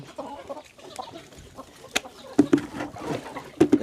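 A hen sitting on hatching eggs gives short, scattered clucks, close and uneven, rising to a few sharper notes toward the end.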